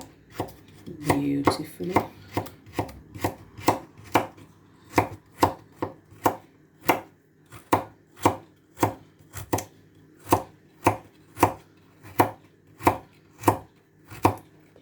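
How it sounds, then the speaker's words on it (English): A knife chops carrots on a cutting board while prepping a fried prawn, chicken and noodle dish: a close, steady run of crisp, evenly spaced chops, with a faint voice at the start. "So you go ahead and prep your carrots"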